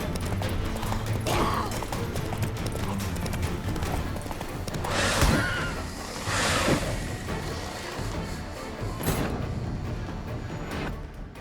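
Horse hooves galloping in The Witcher 3 video game, a rapid drumming clatter throughout, overlaid with rushing wind and several loud whooshing bursts mid-ride.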